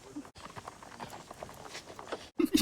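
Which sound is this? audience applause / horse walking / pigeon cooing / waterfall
horse walking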